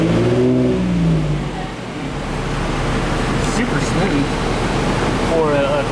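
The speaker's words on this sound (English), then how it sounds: "typically these engines at idle, you'll feel them, and it's a little like that" A 3.5L Ecoboost V6 swapped into a Mustang runs steadily, a loud, continuous engine drone with some rising revs at the start. Faint voices are present under the engine noise.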